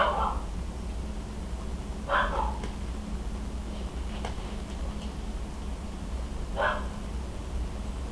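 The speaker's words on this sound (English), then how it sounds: "The neighbor dog's at it again." A neighbour's dog barks three times at a distance, in short separated bursts, over a steady low indoor hum.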